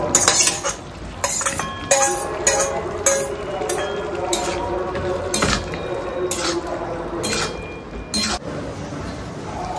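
A spatula scrapes and clinks against a pan while okra and boiled potatoes are stirred, with repeated metallic taps and ringing clinks over a soft sizzle.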